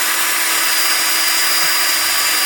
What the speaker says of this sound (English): So you can take a drill with a small wire brush, and then you're going to go in here.